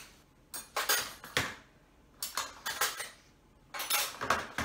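Breakfast dishes and cutlery clatter as they are loaded into a dishwasher in a home kitchen, in three bursts of close clinking and knocking separated by short pauses.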